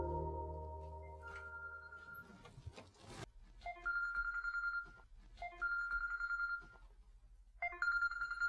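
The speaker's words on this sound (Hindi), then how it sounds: "मेरा फोन क्यों नहीं उठाता" A telephone rings unanswered in a TV drama scene: a steady electronic ringtone repeats in three long bursts after a brief lower-pitched sound, fairly loud and close, with no voices.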